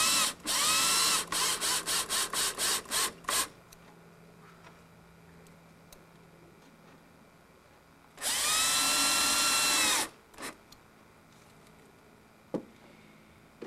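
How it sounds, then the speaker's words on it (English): Power drill driving screws into a wooden chair, with a series of short stuttering bursts followed by one longer steady whir and a few faint clicks and taps, with no voices. "Line it up and drive your screws in."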